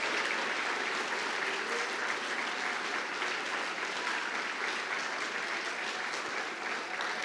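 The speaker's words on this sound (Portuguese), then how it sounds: "Aplauda dando glória" A church congregation applauding during a worship service, a dense sustained wash of clapping from many hands that stays steady throughout, with no voices standing out.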